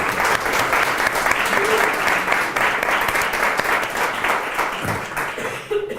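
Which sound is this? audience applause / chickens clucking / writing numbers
audience applause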